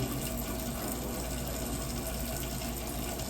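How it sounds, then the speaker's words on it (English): Hands lathered with soap under a running tap, a loud, steady hiss of flowing water heard up close throughout, with no one speaking. "We'll lather our hands with soap, making sure to get our fingernails for the fingernails."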